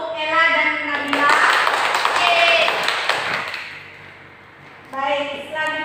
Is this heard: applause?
yes